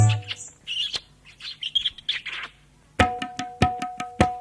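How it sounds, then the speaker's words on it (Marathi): Bright sparrow chirps and tweets in quick bursts, pausing briefly before a fresh run of sharp repeated chirps close by. "चिव चिव चिमणी"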